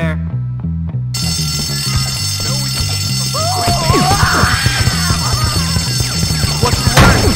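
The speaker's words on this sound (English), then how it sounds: "Who set that alarm off?" A school fire alarm rings in the video game Bully on PS4, sounding as a loud, steady, repeating electronic pulse that keeps going under people talking, with crashes and game noises mixed in.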